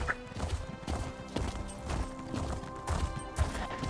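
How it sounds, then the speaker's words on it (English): Horse hooves clip-clop in a steady, even rhythm as a mount trots along a road in Elder Scrolls Online, close and continuous over a constant bed of game ambience. "I swear my horse is slower than he was before."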